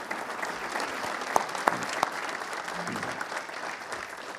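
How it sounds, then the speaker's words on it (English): Audience at a State of the Town address applauding the Colonie Town Board, moderate steady clapping in a hall with a couple of louder claps near the front. "Please join me in a round of applause for the Colonie Town Board."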